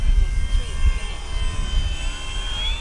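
An RC Cessna 182 model plane passes slowly with landing flaps down, its steady electric motor whine and propeller drone holding moderately loud throughout.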